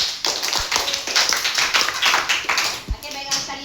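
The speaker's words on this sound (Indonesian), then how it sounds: "berikan aplaus untuk kita semua" A class of students applauding together in a classroom, brisk, loud, continuous clapping for several seconds with a few sharp individual claps standing out near the end.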